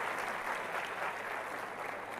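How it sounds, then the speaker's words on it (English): Audience applause at a Realme X2 Pro smartphone launch event in India, a dense steady burst of clapping from a large crowd lasting a couple of seconds. "I want to have a big round of applause to the people who are sitting over here."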